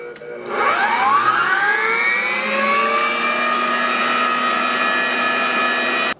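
An electric mixer whips cream at speed 6, its motor whine rising in pitch as it spins up and then holding a loud, steady high drone to the end.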